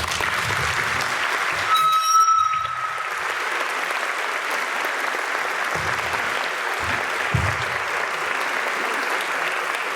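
An audience at a talk on adolescent depression and anxiety claps steadily and loudly throughout, a dense sustained applause with a brief tone near the start.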